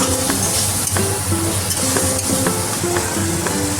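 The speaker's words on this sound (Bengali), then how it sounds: "এবার আলুটার সাথেও আমি মশলাটা কিছুক্ষণ ভালো করে কষিয়ে দেব।" Spice paste and potatoes fry together in a pan for a Bengali fish curry, giving a continuous close sizzle broken by repeated scraping stirs.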